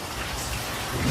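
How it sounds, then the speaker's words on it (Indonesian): Steady rain falls outside, a continuous broadband hiss of drops on surfaces that holds at an even level throughout and swells slightly near the end. "Di luar sedang hujan nih."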